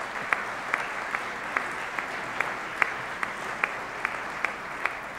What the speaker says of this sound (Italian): Un applauso, Laura, se lo merita.